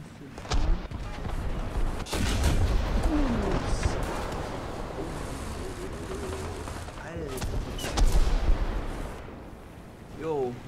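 Cannon fire from a T-10A heavy tank in the video game War Thunder on an Ardennes map, a few loud booming shots spread across the stretch over steady engine rumble, with someone talking throughout.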